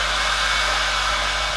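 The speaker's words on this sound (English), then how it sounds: "So to blow dry my hair," A Remington Air 3D hair dryer running on medium heat, heard as a loud, steady, close airflow roar with a low hum underneath, alone and continuous.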